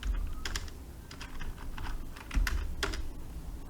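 A number is typed on a computer keyboard with a quick series of close, crisp key clicks, several presses spread over a few seconds.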